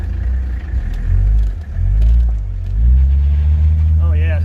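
A Mercedes-Benz W123 with the OM617 turbo diesel pulling hard under throttle, its low engine drone swelling and easing as it accelerates, loud and close, with someone talking over it.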